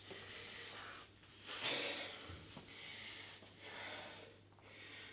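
Heavy, breathy exhalations and gasps from someone recovering after a full-body movement workout, a few long loud breaths repeating over a steady low hum, with no talk.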